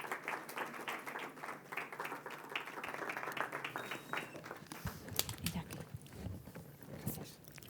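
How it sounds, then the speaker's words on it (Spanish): Applause from an audience at a business forum swells as a dense, fairly faint patter of clapping for most of the stretch, thinning into scattered claps and a few voices toward the end. "pido un fuerte aplauso para ellos"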